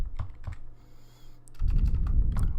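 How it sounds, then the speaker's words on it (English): Rapid computer keyboard typing during a Papers, Please game stream, a run of close clicks and clacks that grows louder and busier in the second half, with no voice present. "You're gonna hear loads of typing."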